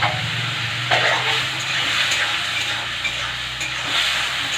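Food stirred and sautéed in a hot pan, a continuous close sizzle with occasional scraping stir strokes and light utensil knocks against the pan.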